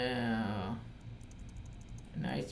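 Quick light taps on a computer keyboard during IT software training, a short run of soft clicks between stretches of someone talking.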